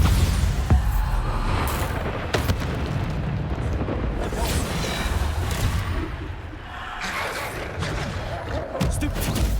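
Bombarda spell explosions in the Hogwarts Legacy video game, loud rumbling blasts and bursts tumbling over one another for several seconds with sharp cracks mixed in and a voice speaking over the noise.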